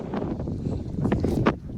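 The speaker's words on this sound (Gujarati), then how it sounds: "જુઓ સરસ મજાનું પવન ફર્સ્ટ ક્લાસ ઉડે છે." Wind blows across an open cotton field and buffets the microphone, making a rough, low rumble with gusty surges and crackles throughout.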